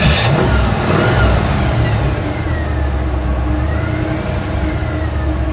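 A 1955 Chevy Nomad's engine runs loud and close with a low, steady roar and a mild rise in revs as the clutch is worked and gas applied, no voices over it.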